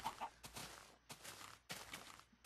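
Several Minecraft chickens cluck in short bursts, fairly close, with brief pauses between calls.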